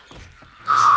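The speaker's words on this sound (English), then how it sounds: "I hear another zombie." A zombie in the video game 7 Days To Die gives a short, harsh, raspy cry that rises abruptly near the end of a brief moment of quiet, loud and close.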